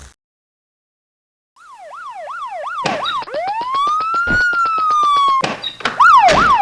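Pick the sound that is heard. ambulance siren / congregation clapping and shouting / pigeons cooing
ambulance siren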